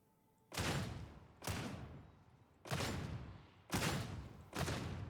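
Five heavy, booming shots from a bolt gun in the video game Warhammer 40K: Darktide, fired at roughly one-second intervals, each with a sharp loud crack and a decaying rumble, with no talking.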